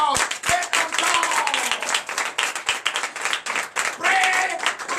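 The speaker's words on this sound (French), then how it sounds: "Donc je vous invite à applaudir encore." A church congregation at a Sunday service in Benin claps and applauds steadily and loudly for several seconds, the dense hand claps sounding together as a crowd with some voices mixed in.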